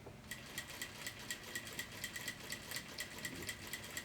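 A sewing machine stitches fabric in a steady, rapid run of needle strokes, close and fairly quiet, with a faint motor hum underneath and no talking.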